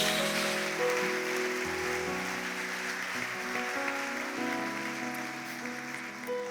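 A congregation at a church service applauds softly under sustained keyboard chords, the clapping a faint, even patter like light rain throughout.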